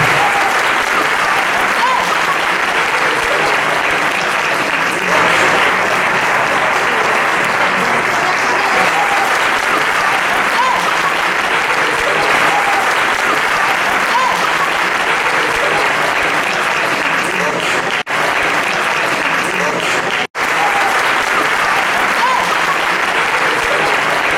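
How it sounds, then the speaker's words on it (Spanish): An audience gives sustained applause for journalists at an awards event, a dense, loud, continuous clapping from a large crowd that holds steady throughout with no break. "nuestro aplauso a nuestra gente periodista"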